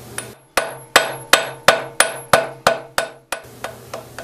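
Blacksmith hammering a hot steel bar to spread material for a spring latch pivot, about ten sharp ringing blows at a steady rhythm with a short pause partway, close and loud with no talk.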